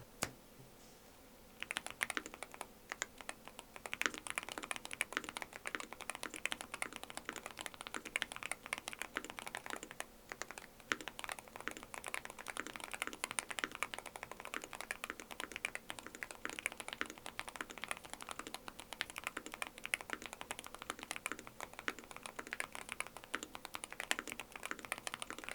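Rapid, continuous typing on a Boog75 keyboard with magnetic switches, a dense patter of quiet close key clicks that goes on without pause and with no talking.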